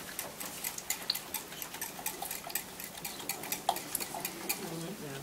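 Three eggs being mixed into a tart filling in a 9-inch dish, with a rapid, regular clatter of a utensil scraping and tapping against the dish throughout.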